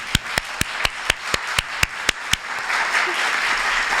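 Sharp, close hand claps right at a microphone during a panel event, about ten evenly spaced loud slaps over the first two and a half seconds, followed by a steady room hiss with no talk.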